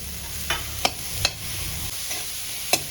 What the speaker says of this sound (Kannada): ಈಗ ಕಟ್ ಮಾಡಿ ಇಟ್ಕೊಂಡಿರುವಂಥ ಕ್ಯಾಪ್ಸಿಕಮ್ಮು ಮತ್ತು ಚಿಲ್ಲಿ ಎರಡನ್ನು ಹಾಕಿಬಿಡೋಣ